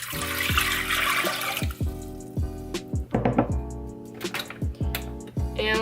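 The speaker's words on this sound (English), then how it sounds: "We're gonna add our water to the pot." Water pours and splashes into a pot for brewing kombucha tea up close, with gurgling, dripping sounds and a low resonant hum underneath.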